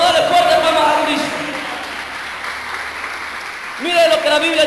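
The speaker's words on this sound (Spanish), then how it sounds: "Vamos a darle fuerte palmas a Cristo." A church congregation claps loudly for Christ in a sustained round of applause that fades, then swells again near the end, with voices speaking over it.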